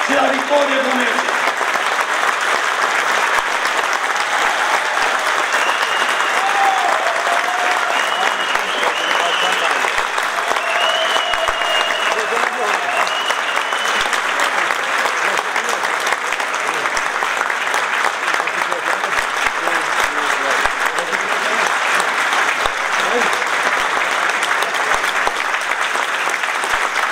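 Long, steady applause from an audience at a PNL political rally in Neamț launching parliamentary candidates, dense clapping throughout with cheers and a voice briefly speaking over it.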